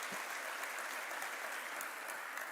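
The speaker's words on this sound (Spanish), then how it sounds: "dele un aplauso al Señor" A congregation claps during a sermon, a faint, even, continuous spread of many hands clapping at a distance, with no voices over it.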